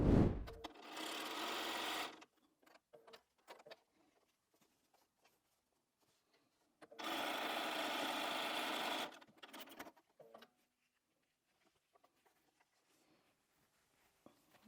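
A sewing machine whirs in two bursts of rapid stitching, each about two seconds long, separated by quiet handling and soft rustling.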